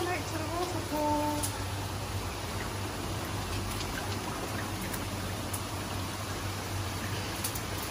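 Water rushing from a waterfall inside a tunnel: a steady, dense, hissing roar of flowing water fills the space continuously, with a faint low hum and brief voice sounds early on.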